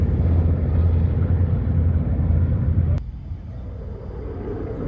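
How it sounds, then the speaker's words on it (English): C-47 / DC-3 piston airplanes flying over in formation at an airshow at Oshkosh, a heavy droning rumble that cuts off abruptly midway and leaves quieter outdoor ambience. "C-47s, or as they're known in the civilian world, DC-3s, flying over in formation"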